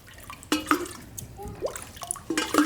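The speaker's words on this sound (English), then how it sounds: "I'm going to put a little cold water in right now" Cold water is poured from a bucket into a hot pot at an outdoor pioneer-style demonstration, heard as scattered splashes, drips and trickles in irregular bursts, fairly close and moderately quiet.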